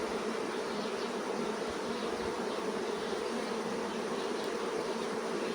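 Dense, steady buzzing of many honeybees swarming around a hive, continuous and fairly loud throughout with no voices.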